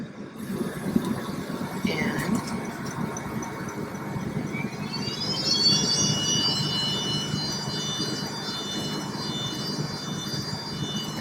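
A WeCreat diode laser cutter and engraver runs with its air filter going, giving a steady broadband whir with a rising whine partway through, continuous and fairly close.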